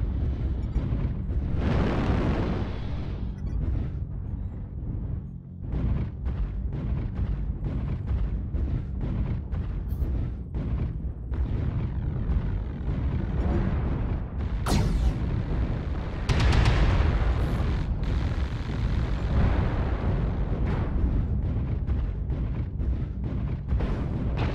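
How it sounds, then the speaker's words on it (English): Artillery strike in the mech combat game Mechwarrior Online, heard as a dense run of deep booms and sharp bursts, loud and nearly continuous, layered with rumbling blasts and no talking. "Artillery strike online."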